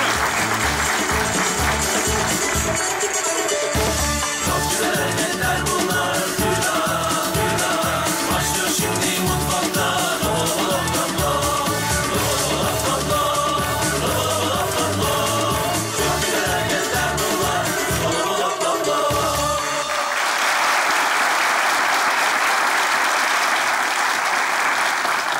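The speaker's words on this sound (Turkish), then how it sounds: "Devam edin efendim alkışlarla." A studio audience at a Turkish comedy sketch show claps loudly and continuously for about twenty seconds, a dense wash of applause from a large crowd that ends abruptly and gives way to a different sound.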